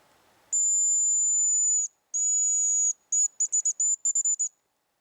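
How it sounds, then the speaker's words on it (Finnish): Hazel grouse decoy whistle blown during a grouse hunt, starting with two long, thin, high-pitched notes, then a quick run of short trilling pips, loud and close against silence. "Pienen tauon jälkeen oli aika jatkaa pyyn pillittämistä."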